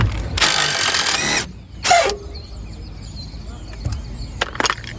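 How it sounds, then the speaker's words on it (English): A cordless impact driver whirs in a loud, sustained burst on a seized front brake caliper bolt of a Skoda Fabia, followed by a shorter second burst, then quieter clinks and handling of tools and parts. "just get the impact driver, make sure it's set to come off"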